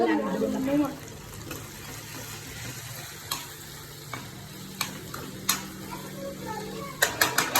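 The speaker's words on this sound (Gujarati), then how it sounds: "શાક ને હલાવ. મસ્ત હલાય." Vegetable curry stirred in a pan at home, a soft sizzle under intermittent scraping and clinks of the spoon that grow sharper and more frequent toward the end; a voice talks briefly at the start.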